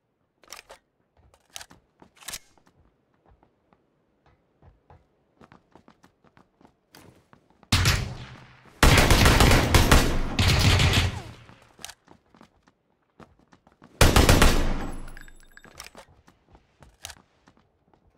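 Bursts of gunfire in PUBG, with rapid automatic fire in two loud clusters among sparse footsteps and scattered distant shots, no talk.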